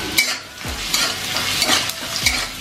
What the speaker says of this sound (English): Fry it a little bit.